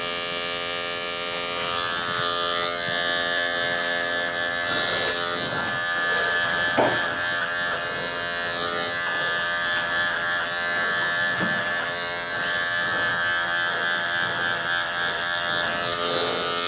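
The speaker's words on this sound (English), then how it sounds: "I'm flicking the clipper up as I go into the longer areas" Electric hair clippers buzz continuously and steadily through a men's classic fade haircut at a barber shop, a constant close-up hum that shifts slightly as the clipper is flicked through longer hair.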